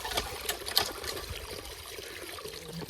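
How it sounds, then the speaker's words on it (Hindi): Radishes are rinsed under running tap water outdoors in the cold morning, a continuous close trickle and splash with small irregular bumps as the vegetables are handled. "थोड़ी तो ये धो रहा मूली जो लेके आए थे।"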